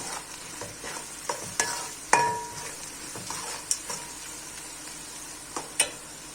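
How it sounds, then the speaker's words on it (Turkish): Onions frying in a pan for kömeç, a steady low sizzle with scattered clinks and scrapes of a spoon against the pan, close and moderately quiet, no talking. "Soğan biraz daha kavrulsun."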